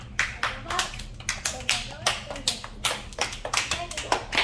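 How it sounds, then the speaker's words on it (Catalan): Clapping from a small group of children in a classroom story session, uneven bursts of hand claps in quick irregular rhythm, close and fairly loud, with little else under them. "Molt bé, un fort aplaudiment."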